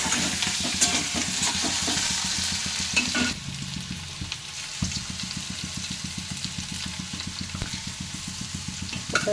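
Garlic crackles in hot oil while a spatula scrapes and stirs the pan in quick repeated strokes, close and busy, the sizzle easing partway through as the stirring rhythm carries on.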